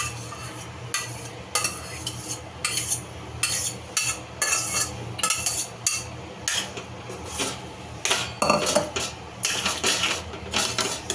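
Mashed vegetables for pav bhaji being stirred into gravy in a pan, a steady run of close spatula scrapes and soft thuds against the metal, growing busier toward the end; no speech.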